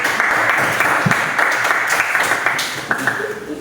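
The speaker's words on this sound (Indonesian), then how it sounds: "aplaus." Applause from a class or small group in an indoor session, a dense patter of clapping that keeps up steadily for a few seconds with some voices mixed in.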